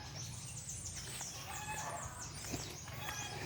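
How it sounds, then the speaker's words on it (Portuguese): Chickens cluck and a rooster crows on a rural Brazilian property, layered calls over a steady outdoor background hum, moderately distant and continuous. "As galinhas já estão lá."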